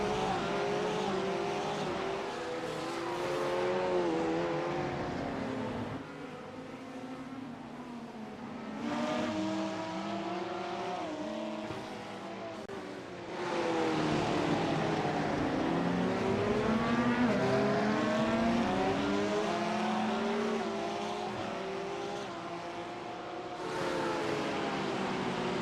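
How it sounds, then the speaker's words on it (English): Race cars in a sportscar sim racing game, engines roaring and revving continuously with shifting pitch as cars accelerate and brake around the track, occasional tire squeal, loud and steady with no talk. "Oh, the car sounds so good."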